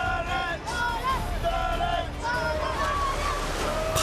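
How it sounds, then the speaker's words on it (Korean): Ocean waves wash over a small octopus-fishing boat off Mauritania, a continuous roar of surf and water sloshing around the tipping hull, with wind noise and people talking over it. "파도를 넘지 못해 균형을 잃은 배가 그만 바닷물에 잠기고 말았습니다"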